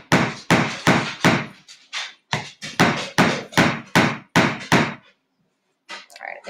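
A hammer strikes repeatedly during a DIY craft project, about a dozen sharp, close knocks in quick uneven bursts, then a short pause before a couple of softer taps.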